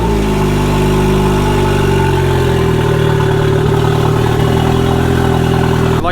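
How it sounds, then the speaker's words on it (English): Turbocharged Honda Civic with an R18 engine running right after startup, a loud, steady idle with a rough, clattery edge and a constant low drone close to the car, no voices over it. "We're going to go ahead and start the car, let it run for a couple of minutes"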